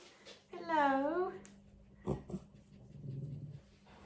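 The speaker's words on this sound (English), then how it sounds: "She's just growling because Luna's sniffing her." A dog growls low and rumbling in a brief burst midway, near and moderately loud, after a higher whining dog vocalisation early on, with other soft noises around it in a domestic setting.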